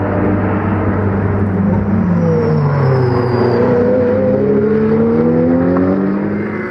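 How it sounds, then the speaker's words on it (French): Ferrari and Porsche GT race cars battling for position at the Magny-Cours circuit, engines roaring loud and steady with rising and falling pitch as they pass, no talk. "la bataille est intense entre la Ferrari d'Alexis Berthet et la Porsche de Yann Penn pour la deuxième place"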